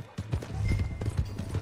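Horse hooves clip-clop at a steady walking rhythm in the open-world western game Red Dead Redemption 2, close and moderately loud, mixed with low game ambience.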